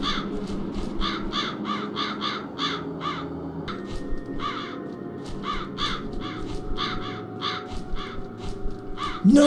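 Crows caw again and again in short rhythmic bursts over a low ambient drone in the video game The Dark Eye: Chains of Satinav, with many calls spread through the scene at moderate distance.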